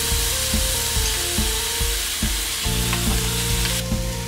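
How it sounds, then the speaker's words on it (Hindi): Fish fries in a grill pan over a medium flame, a dense constant sizzle with a steady thumping knock repeating about twice a second underneath, close and loud, no talk. "इस तरह हमारा फिश एक तरफ से फ्राई हो चुका है"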